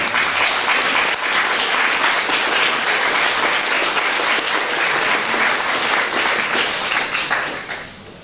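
Loud, full applause from the audience at a science and religion debate, many hands clapping in a thick steady roar that fades out in the final second.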